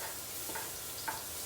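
Ginger and garlic sizzling in a pan while being stirred with a spatula, a soft, steady sizzle with a couple of faint scraping clicks, brief and close.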